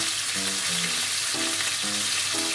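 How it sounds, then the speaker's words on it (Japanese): Pork rolls filled with kimchi and cheese fry in a pan, a loud, steady sizzle with crackling spatter and a few low tonal hums underneath, and no talking. "片面焼いたらちょっとひっくり返していきます"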